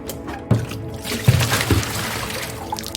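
Cold water poured from a vessel, a short splashing pour with a few louder gushes over about three seconds, close and alone.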